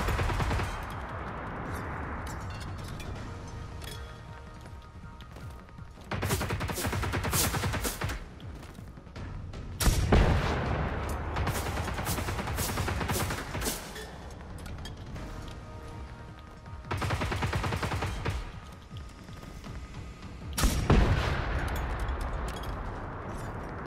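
Gunfire in the video game Generation Zero comes in several loud clustered bursts separated by quieter stretches of ambient game sound.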